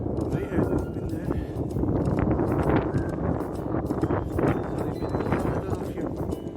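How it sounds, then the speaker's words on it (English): Strong wind gusting across an open outdoor hiking trail, buffeting loudly and steadily with rushing bursts while someone talks through it. "the wind is very strong here"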